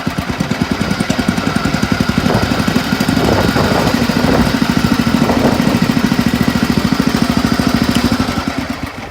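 A 1977 tractor engine, started while hot, settles into a steady, loud, close idle with a rapid even chugging pulse and faint mechanical knocking that holds throughout with no talk.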